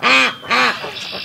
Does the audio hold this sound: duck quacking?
yes